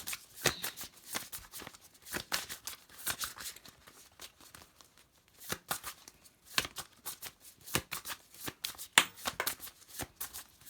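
Tarot cards being shuffled close up, quick riffling bursts and soft slaps in irregular clusters with brief pauses, fairly quiet and alone.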